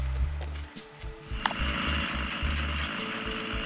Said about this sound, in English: One click raised the log a quarter inch